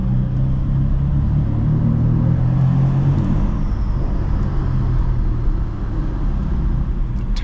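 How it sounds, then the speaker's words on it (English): BMW F82 M4 turbo engine heard from inside while driving, a steady low rumble and drone with road noise and a faint whine, no speech. "The turbo just sounds so good on this car, man."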